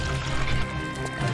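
Liquid pours into a container in the video game Tomb Raider: The Last Revelation, a short gurgling, splashing fill heard up close without talk.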